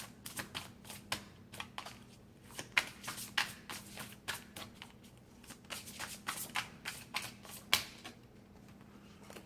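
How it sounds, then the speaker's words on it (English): Psychic Tarot Oracle cards being shuffled by hand, a quiet run of rapid papery flicks and riffles in bursts, close up with a faint steady hum beneath. "We're pulling out these psychic tarot cards."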